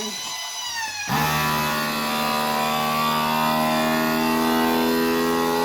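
A vacuum sealing machine switches on after about a second of near silence and runs with a loud, steady mechanical hum and whine, sealing a container of freeze-dried peppers that holds an oxygen absorber.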